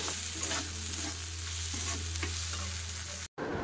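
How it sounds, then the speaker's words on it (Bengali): Poppy seeds fry in hot oil with a steady, close sizzle and a soft stirring scrape, a constant low hum underneath, cut off by a brief silence near the end. "পোস্তটা একটু ভাজা ভাজা হচ্ছে"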